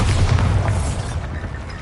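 A Bombarda spell detonates in Hogwarts Legacy, a loud close boom with a heavy low rumble that slowly decays, no talk.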